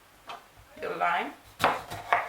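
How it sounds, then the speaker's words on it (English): A knife chops lime on a cutting board with a few crisp, separate strikes spread across a couple of seconds, and a brief voice-like sound comes between them. "Chop everything and put it in your jar."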